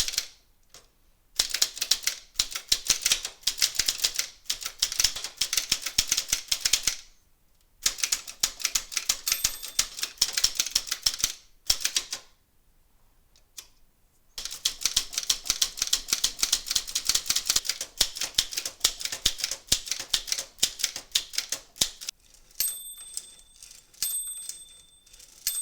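A $5 1960s manual typewriter from a flea market gets a typing test, with fast, close clattering key strikes in bursts and a few short pauses, plus bell-like dings near the end.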